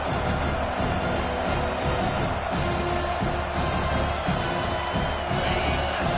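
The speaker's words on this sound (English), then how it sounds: "Listen to this crowd just shaking the girders of this place, trying to help their defense." A packed college football stadium crowd roars steadily to back its defense, a dense, unbroken wall of cheering and shouting that holds loud and constant throughout.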